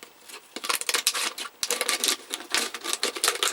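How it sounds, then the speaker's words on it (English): Scissors snipping around the top of a plastic bottle, close and crisp, a rapid run of dry cuts and rasping plastic with short pauses between bursts. "Then it's easier to just run the scissors"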